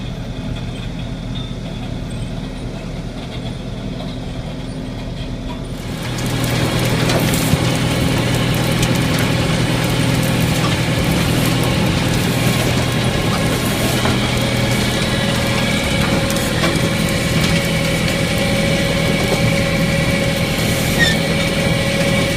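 A tractor pulling a potato harvester at 2.2 km/h in a field: a steady mechanical drone with a low engine rumble that grows louder after a few seconds and holds evenly, no speech.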